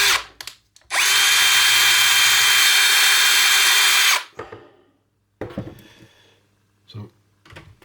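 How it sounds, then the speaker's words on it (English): Power drill with an 8mm bit boring through a plastic Amiga 500 Plus case to cut a 10mm window for an OLED screen; one loud, steady whine lasting about three seconds, followed by softer scraping and handling noises. "I think this is an 8mm drill bit. We're drilling a 10mm window"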